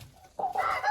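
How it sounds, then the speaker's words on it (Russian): Broiler chickens at a raised feeder of mixed grain give a couple of close, loud clucks in quick succession after a brief quiet moment. "Кушают у меня бройлеры зерносмесь, такую же, как и все куры."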